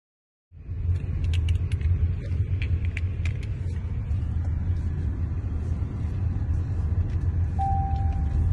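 A car drives and takes a corner, starting abruptly into a loud, steady low engine and road rumble with light rattles and creaks from inside the cabin, close and unbroken throughout.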